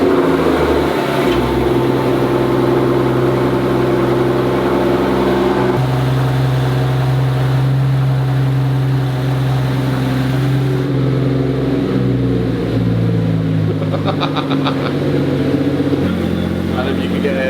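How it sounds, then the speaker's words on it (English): A supercar in a private Abu Dhabi collection cold-starts and holds a loud, steady high idle with a shifting low drone throughout, while people talk over it. "this is going to be the cold starts of all cold starts"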